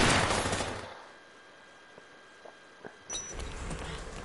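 Video game gunfire: a loud burst at the start, then scattered single shots and a renewed volley toward the end, with faint background ambience between.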